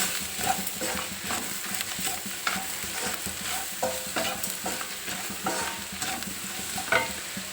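A bitter gourd curry with tomato pieces stirred and fried in a pan, steady sizzling under repeated scraping strokes of a spoon, close and moderately loud.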